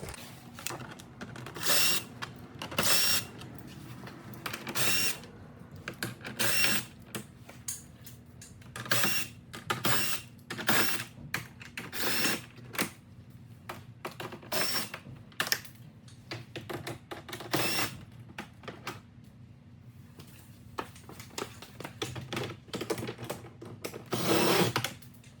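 A 7 millimeter socket on a ratchet or driver removing the fasteners of the front chin spoiler on a 2024 Chevrolet Colorado Trail Boss, heard as repeated bursts of rapid clicking and whirring spread evenly through the clip, close and fairly quiet, with no talking.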